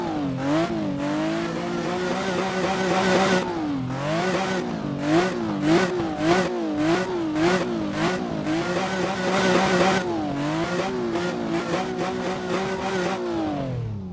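Car engine in the Assetto Corsa racing game, fitted with a sound mod, revs up and down repeatedly in loud, rising and falling sweeps with sharp gear-change dips, heard up close with no talk over it.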